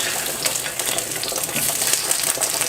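Shrimp hitting about three tablespoons of hot olive oil in a pan over medium-high heat, giving a steady, loud hiss and crackle of frying that runs unbroken throughout.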